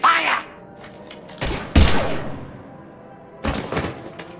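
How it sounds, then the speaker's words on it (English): Weapons fire in the video game Mass Effect 3: a few sharp, heavy blasts in separate bursts near 1.5, 1.8 and 3.5 seconds, loud and close, with brief quiet gaps between. "Now open fire!"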